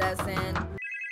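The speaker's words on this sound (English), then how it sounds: "Oh, phone's ringing." Ringtone from an in-game telephone in Minecraft, a bright repeating electronic trill that begins suddenly after a burst of loud game noise and voices, then rings alone, steady and clear.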